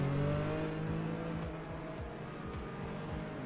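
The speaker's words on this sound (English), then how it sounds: "So we're now at Daytona, and we're in the 1972 Porsche 911 Carrera RSR." A 1972 Porsche 911 Carrera RSR race car with a rear-mounted 3-litre six-cylinder engine of about 330 horsepower howls steadily on track at Daytona, its pitch sweeping in repeated gearshift rises, heard from inside at moderate level.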